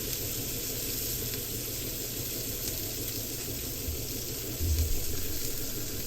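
Steak fat cap searing in a hot cast iron pan: steady, dense hissing sizzle held close and loud throughout, with a slight low thump and surge near the end.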